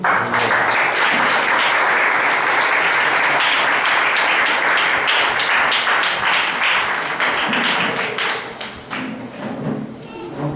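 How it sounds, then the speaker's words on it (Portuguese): A church congregation applauds loudly and steadily for about ten seconds, with dense clapping and scattered thuds, tapering slightly toward the end. "Pode aplaudir, irmão."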